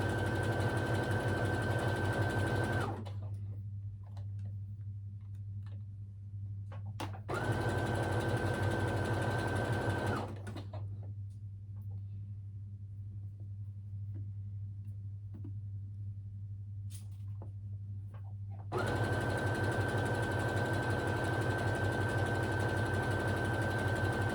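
A sewing machine stitches a trouser seam in three bursts of steady, fast mechanical whirring, separated by quiet pauses while the fabric is adjusted, close and without talk.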